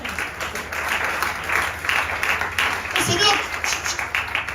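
A church congregation claps and applauds the Lord during a French-language sermon, a dense, steady wash of many hands clapping at close range that carries on without pause.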